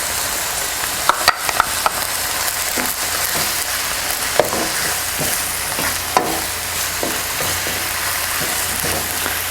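Mushrooms stir-frying in a hot pan for a pork stir-fry: a steady broadband sizzle with scattered clicks and scrapes of stirring, close and fairly loud, no talking.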